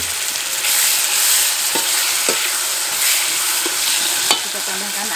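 A spoon stirs a pot of broth for papeda with ground pepper, lemongrass, lime leaves and bay leaves. Soft sizzling runs under scattered sharp clinks and scrapes of metal against the pot.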